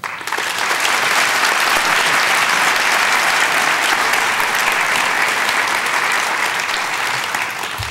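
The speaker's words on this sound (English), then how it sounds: "Please join me in another round of applause." Sustained audience applause at a Simon Fraser University public evening dialogue event on Canada's role in the world, loud and dense, continuous broadband clapping throughout with no speech.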